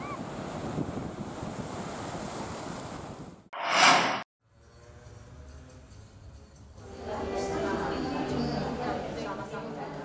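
High ocean waves about five meters tall and strong wind in the waters off Merauke, Papua, a loud sustained rush of surf and gusts with a short louder burst partway through and a lull before the roar builds again.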